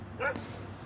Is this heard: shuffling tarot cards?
no